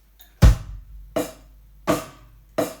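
Drum kit playing a simple grade-level rock pattern of hi-hat with snare: four crisp, evenly spaced hits, the first one heavier with low-end thump, all close and alone with no voices.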